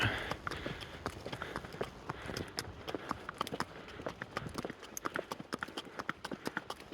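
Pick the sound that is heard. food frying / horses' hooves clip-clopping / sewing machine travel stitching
horses' hooves clip-clopping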